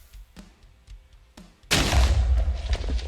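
A sudden loud boom erupts in a video game after something is lit, following a few quiet clicks, then a sustained rumbling roar that stays loud to the end.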